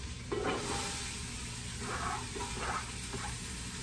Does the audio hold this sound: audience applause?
no